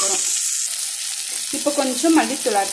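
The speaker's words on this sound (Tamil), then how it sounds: "தக்காளி நல்லா வதங்கிருச்சு." Tomatoes sauté in a frying pan for idli kurma, giving a steady, close hiss of sizzling oil throughout, with a few brief spoon-stirring scrapes toward the end.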